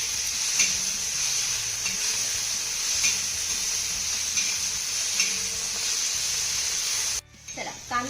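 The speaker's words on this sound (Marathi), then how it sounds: "आता हा कांदा आणि टोमॅटो आपण चांगला मऊसूर होईपर्यंत परतून घेऊया." Chopped onion and tomato sautéing in a pan, giving a continuous close sizzle with soft stirring pulses that cuts off abruptly near the end.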